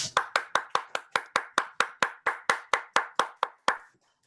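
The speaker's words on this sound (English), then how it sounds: "A round of applause for Margaret" Applause for Margaret at a Refugee Week writing showcase: about fifteen sharp, evenly spaced claps, close and steady, which end abruptly and leave a short silence.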